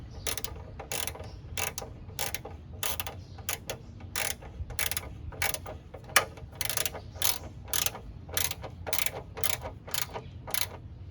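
A flex-head ratchet clicks rapidly in repeated strokes while tightening a body bolt on a GM minivan during radiator replacement, each burst of clicks close and crisp with brief pauses between pulls, with no talking.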